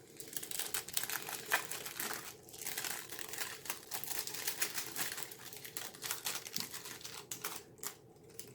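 Cellophane wrappers on a 1953 Korean War RCAF AFFP-1 survival food packet of fruit-flavored candies crinkle and crackle continuously at close range, with irregular sharp crumpling bursts and no talking.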